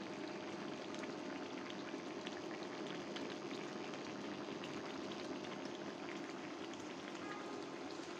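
Pabda fish gravy boiling in a pan, a steady dense bubbling hiss that holds even and unbroken throughout, close and moderately loud.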